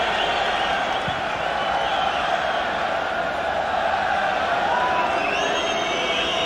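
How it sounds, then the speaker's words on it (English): A large stadium crowd at a 1993 Cup Winners' Cup match between Standard Liège and Arsenal whistles loudly and continuously in sustained shrill tones, while a commentator talks over the noise. "every time the Belgians get it now, they're being whistled at by their own fans"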